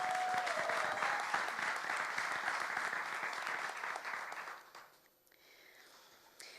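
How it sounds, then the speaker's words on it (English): A room full of people applauds a speaker: dense, sustained clapping that holds steady for several seconds, then quickly thins out and fades to near quiet. "Another round of applause for her."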